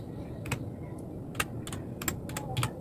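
VLAN names typed on a computer keyboard during switch configuration, a few scattered key clicks and a quick cluster of taps over a steady low room hum.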